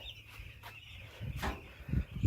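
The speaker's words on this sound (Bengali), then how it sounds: "এগুলো হচ্ছে মুরগির বাচ্চা" Many chicks cheep continuously in a crowded poultry farm shed holding around 1000-1200 chicks, with scattered thuds and shuffling close by.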